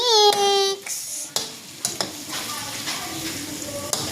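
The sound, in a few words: stirring onion and tomato in a pan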